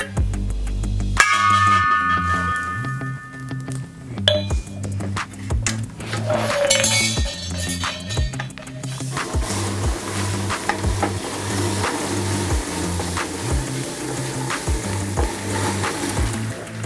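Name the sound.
liquid nitrogen being poured into a container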